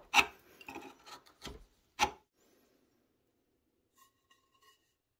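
A hand chisel or file squares the corners of wooden mortises for a side table, a few sharp rasping scrapes in the first two seconds, then quiet with faint small ticks.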